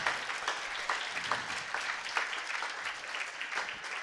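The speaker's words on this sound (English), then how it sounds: "Please, everyone, give Father Lawrence a round of applause" An audience at a live talk show in the Motor Bar of the Harley-Davidson Museum applauds Father Lawrence, with steady, moderately loud crowd clapping sustained for several seconds without speech.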